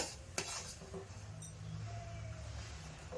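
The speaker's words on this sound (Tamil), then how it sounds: "கட்டிகள் இல்லாமல் இதை நல்லா கலருங்க." A spoon stirs roasted ration rice flour batter with jaggery in a pot, giving faint scraping and light clinks of metal against the vessel in a quiet kitchen.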